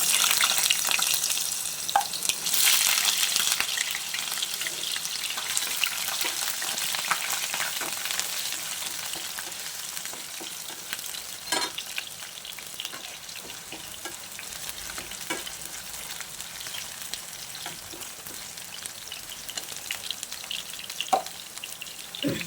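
Potatoes dropped into hot oil fry with a steady, busy sizzle and scattered crackling pops, moderately loud and close, and the sizzle eases slightly over time with no talking.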